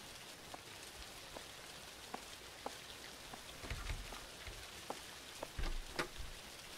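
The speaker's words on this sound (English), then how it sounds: "Why am I going out in this pouring-ass rain?" Steady rain patters across a surface, with scattered distinct drops and occasional low thuds, no voices.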